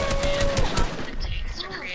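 Rapid bursts of gunfire from a shotgun-heavy squad shooter crackle through a close firefight, loud and dense, with a player's voice talking over the shots.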